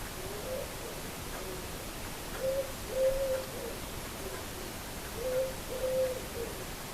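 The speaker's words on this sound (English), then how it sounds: "I don't know if you heard that pigeon outside," A pigeon cooing outside, heard as soft, distant repeated coos in two short clusters over a quiet room background.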